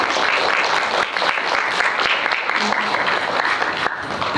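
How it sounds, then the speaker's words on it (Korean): Audience applause welcoming a film director and actors onto the stage at a special cine-talk screening event, dense sustained clapping filling the room throughout, with faint talk mixed underneath. "박수로 맞아주세요."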